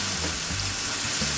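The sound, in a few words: pork chops and pimento seeds frying in a pan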